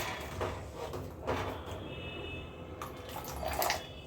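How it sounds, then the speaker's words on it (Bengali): Blanched peas being strained out of water in a kitchen, with soft splashes, trickling and dripping water and light clinks of a strainer against a pot, quiet and close with no talking. "তখন আমি মটরগুলো জল থেকে এইভাবে ছেঁকে নেব"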